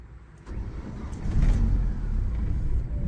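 A car engine with a clutch that will not disengage, in reverse with the clutch pedal held down, runs with a low, close rumble that swells and stays heavy and uneven.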